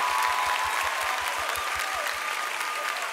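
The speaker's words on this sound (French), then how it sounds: "On applaudit encore une fois pour Koufan Daniel" An audience claps steadily and enthusiastically, with a rhythmic beat in the mix, sustained and fairly loud throughout.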